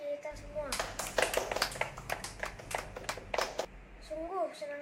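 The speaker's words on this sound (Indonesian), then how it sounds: "Ayo teman-teman, kita kasih tepuk tangan buat kita semua." Children clapping after a grade 3 school performance, a loose burst of uneven claps from a small group, with a voice audible at the start and end.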